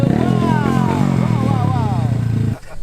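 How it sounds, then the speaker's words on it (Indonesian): A motorcycle engine runs close by with a rough, pulsing rumble and shifting revs for a couple of seconds before cutting off abruptly, with voices talking over it. "Suara motornya gimana sih, Matt?"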